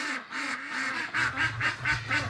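Ducks in a pen quack in a quick rhythmic run of about a dozen nasal calls, close and clear, with a low wind rumble beneath the later ones.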